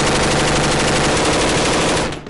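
Sustained, loud machine gun fire during a patrol in Afghanistan, a dense rapid burst of shots running continuously for about two seconds before cutting off.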